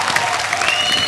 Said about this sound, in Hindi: जोरदार तालियां आयुष के लिए.